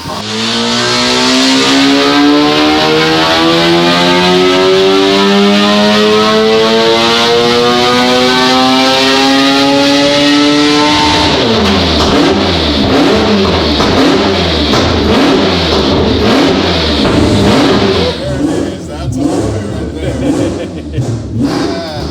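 A four-rotor engine in a Volvo revs hard, pitch sweeping steadily upward for about ten seconds before breaking into rapid choppy pulsing bursts, very loud and close, with brief talk over it.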